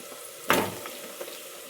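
Goat leg curry with bones tipped into a hot pan, setting off one loud burst of sizzling that settles into a steady, fainter frying hiss, with a small clink partway through.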